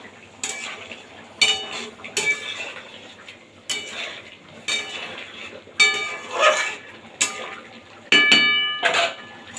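A spoon mixes a stingray fish dish cooked without onion or garlic in a metal pot, giving repeated close bursts of scraping and bright metallic clinks in an uneven rhythm, with no talking.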